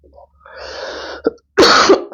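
A single cough, fairly loud and close, with a short throaty rasp before it and no talking.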